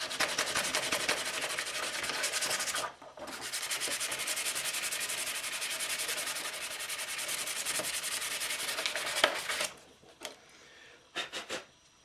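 A wooden guitar bridge is sanded by hand in long, steady rasping strokes, a continuous close scratchy rub with a short pause, then stopping into a few brief scrapes and taps.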